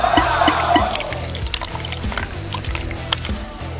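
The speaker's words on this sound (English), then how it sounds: "Water is being pumped to another tank." A small LEGO water pump pushes water into a second tank, giving a steady pouring, splashing flow with a low mechanical hum under it, continuous and close throughout.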